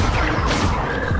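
A Bombarda blasting spell strikes in the Hogwarts Legacy game, a loud, close, sustained crash of rumble and debris-like noise with no clear break.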